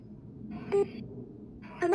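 A phone call is dialed with two short electronic beeps about a second apart, faint against a quiet background hum with no speech.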